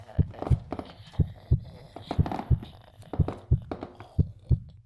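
Heartbeat sound effect with a steady thumping double-beat rhythm, low and close, repeating about every second with no talk over it.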